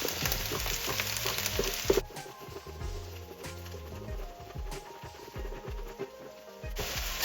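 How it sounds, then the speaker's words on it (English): Chopped peppers and onions frying with taco seasoning in a pan for chicken fajitas, a steady close sizzle with scraping stir sounds throughout, slightly louder at the start and end. "I'm gonna take all those vegetables that I chopped up, peppers and onions, and put it in there."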